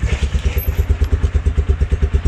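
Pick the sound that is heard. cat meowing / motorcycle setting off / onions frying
motorcycle setting off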